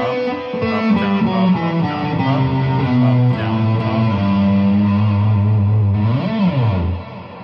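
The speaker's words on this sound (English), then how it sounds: "Now, economy picking on the way up," Electric guitar played with economy picking beginning on an upstroke, a continuous run of effected, distorted notes with echo and chorus, loud and steady without talk.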